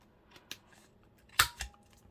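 Paper card corners being rounded with a 10mm corner punch, a few sharp, close clicks and snaps spaced apart in a quiet room, the loudest coming in a quick pair near the end.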